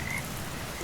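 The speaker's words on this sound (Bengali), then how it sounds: "ব্যাঙের ডাক আর ঝিঝি পোকার শব্দে" Frogs croak in a dense, continuous chorus with crickets over a soft wash of rain at night in a village, steady and moderately loud throughout.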